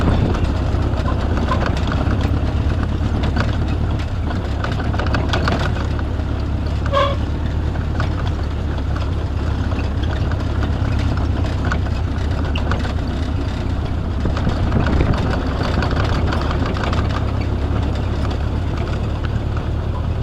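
A 71-year-old Jeep M38A1 engine drones steadily while driving, a loud low rumbling hum heard from on board, continuous for about twenty seconds, with a brief metallic clank midway.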